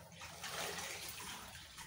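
Clothes being washed by hand in water during a second rinse, a steady sloshing and splashing wash of water lasting throughout, close and fairly loud, with no talk.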